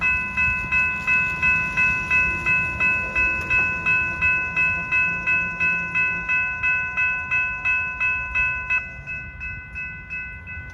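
A Florida East Coast freight train, number 905, rolls past close by with steady rhythmic clickety-clack of wheels on rail joints and a sustained bell ringing, the clatter easing near the end.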